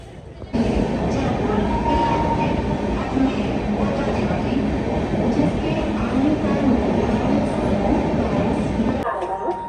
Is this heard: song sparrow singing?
no